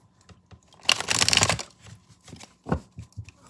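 Close-up shuffling of a deck of oracle cards: a quick rustling burst, then a few softer flicks and taps.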